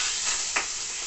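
Mackerel fries in a pan without oil, a constant close hiss and crackle broken by a short scraping flare as the fish is flipped, with no talk.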